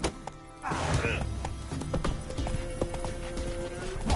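Hoofbeats of a horse galloping in The Witcher 3, a quick clip-clop close by under a brief game voice and a faint whinny.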